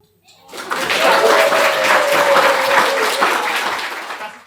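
An audience at the GINCO comic award ceremony in Hamburg bursts into applause, a dense burst of clapping that rises quickly, holds for several seconds and begins to taper, with a voice briefly audible within it.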